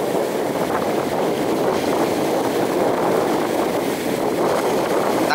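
A small fishing boat crewed by two men motors through rough, windy seas, giving a steady broadband roar of engine, wind and splashing water that stays loud and constant throughout.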